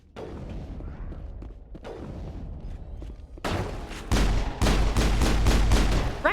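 Gunfire in the video game Mass Effect: dense bursts of rapid shots, sparse at first, then a loud, sustained volley of repeated close reports in the second half.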